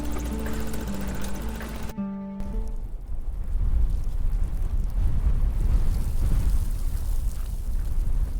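Storm wind howls in a video game, a broad steady roar that builds and stays loud after a tonal musical passage cuts off, with no voices over it.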